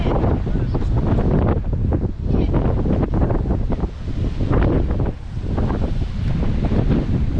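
Strong wind buffets the microphone on a cold winter beach on the Hel Peninsula, with big waves rumbling beneath in loud, gusty bursts and brief lulls.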